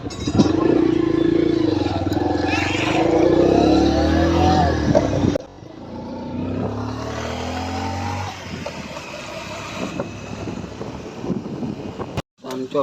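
A motorcycle engine drones and shifts pitch while riding, with wind buffeting and people talking over it, on the way to a temple visit.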